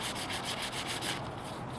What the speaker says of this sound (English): I'm sanding directly on top of it, kind of knocking it down